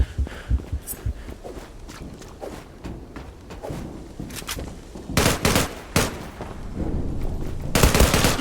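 Gunfire in the Zula online shooter game, scattered single shots followed by loud rapid bursts of automatic fire, close and punchy, with game ambience between.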